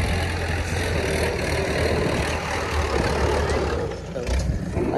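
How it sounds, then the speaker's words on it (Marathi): A tractor engine drones steadily during soybean and pigeon pea sowing in a field, a low continuous rumble with slight dips and surges, fairly close, with no voices. "आणि ट्रॅक्टर चालू आहे पेरणी"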